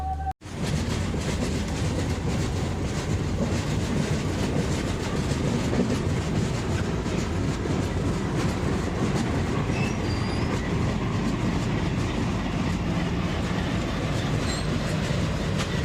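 An Indian Railways passenger train runs near Pune station, a steady loud rumble and rattle of wagons with rhythmic wheel clatter and occasional faint squeals, heard from inside, continuous throughout.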